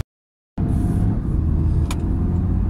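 A Porsche GT3 on the road during a birthday cruise gives a steady, loud engine and road rumble from inside the car. It starts abruptly after a short silence and holds an even drone to the end, with no talk.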